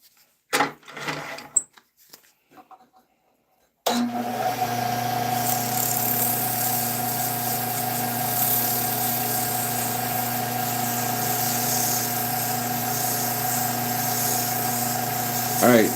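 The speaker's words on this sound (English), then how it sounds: "I'm gonna sand it just a little bit." A lathe spins a small wooden top while it is sanded, a steady droning hum with a buzzing tone that starts abruptly after a few seconds of brief talk and handling noise, then runs continuously.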